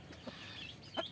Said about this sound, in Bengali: এ হচ্ছে আমার বড় মুরগিগুলো।